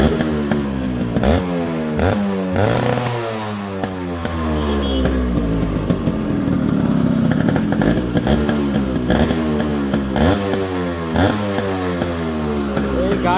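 A Yamaha RX 100 motorcycle with a fully rebuilt, completed engine runs close by, its two-stroke idle rattling in a steady loud burble with a few blips of revving throughout.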